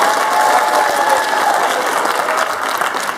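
A theater audience applauds the crew and scientists at a 2018 Q&A panel with loud, dense, sustained clapping that fills the room.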